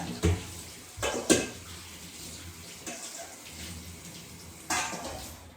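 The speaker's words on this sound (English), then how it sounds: "I'm going to just go to the sink and rinse them under some cold water." Chicken livers are rinsed under a cold running tap at a kitchen sink, giving a steady splash of water broken by a few clatters and knocks of dishes nearby.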